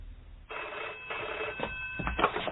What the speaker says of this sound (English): I'd only just got inside when the phone rang.